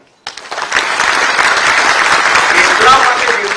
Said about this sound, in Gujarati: ગોત્રુબેને જે કામ કર્યું છે એને આપણે તાળીઓથી બિરદાવીએ